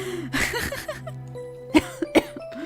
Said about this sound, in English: That actually made me cough